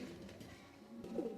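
A pair of pigeons coos nearby in low, soft, rolling calls, with a fuller coo rising near the end over quiet background noise.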